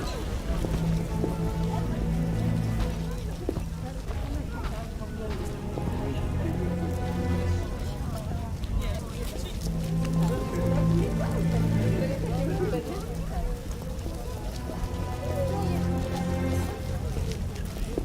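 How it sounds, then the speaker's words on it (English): Steady rain patters on surfaces in a dense, continuous hiss, close and fairly loud, while people talk over it in low voices. "Goddamn rain."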